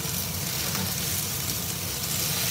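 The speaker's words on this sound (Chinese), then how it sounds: "然后每次那炒菜就有 撒撒撒的声音。" Green vegetables stir-fry in hot oil in a home kitchen, sizzling loudly and continuously up close, with no talking over the crackle.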